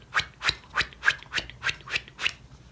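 A voice mimics a rotating lawn sprinkler with eight evenly spaced, breathy chk bursts in a quick, regular rhythm, close and moderately loud.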